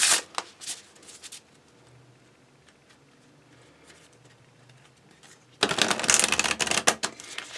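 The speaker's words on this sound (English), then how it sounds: "let's get your last oracle card here." Oracle cards in a pick-a-card reading: close papery shuffling, then a quiet stretch of light handling, then a loud burst of rapid card riffling, with no voice.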